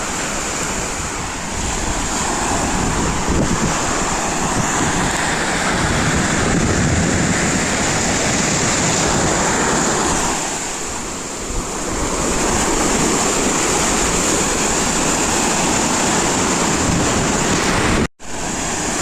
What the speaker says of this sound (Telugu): ఇదిగో ఉంటుంది అది రామతీర్థం బీచ్ అయితే ఇలా ఉంది